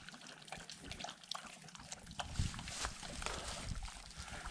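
Water barely trickling through a dry canyon at Cedar Mesa, Utah: a faint, close, steady wash of soft splashing with no clear voices.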